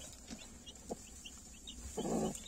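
A Silver Wyandotte hen with newly hatched chicks clucks softly a few times nearby, ending in a louder, fuller cluck, with faint background noise throughout.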